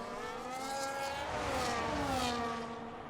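Race car engines in a sim racing game at the Abu Dhabi Grand Prix whine loudly and continuously, several overlapping engine notes rising and falling as the cars run close together, with no talk.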